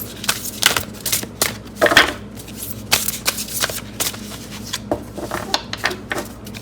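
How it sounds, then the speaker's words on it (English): A deck of tarot cards being shuffled by hand, with crisp riffling bursts and soft slaps that repeat in an irregular rhythm, close and fairly loud, with no talking. "I'm going to pull the tarot cards"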